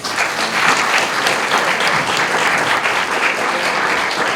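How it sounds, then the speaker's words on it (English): Loud, steady crowd applause for a student at the 2019 Spelling Bee of Canada Championships primary category, a full dense wash of clapping from a large audience lasting throughout. "Let's give her a big round of applause."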